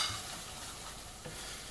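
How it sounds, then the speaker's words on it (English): Ground meat seasoned with homemade taco spice fries in a pan with a steady, close sizzle and soft stirring, no voices. "So we're just going to let this fry for another couple of minutes."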